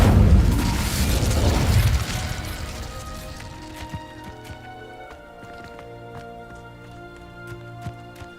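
An Incendio fire spell blast from Hogwarts Legacy erupts loud and roaring in the first two seconds, then fades into a long ringing, crackling tail with scattered small pops.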